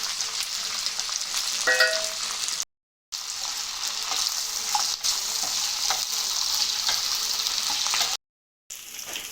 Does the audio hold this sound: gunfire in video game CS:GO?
no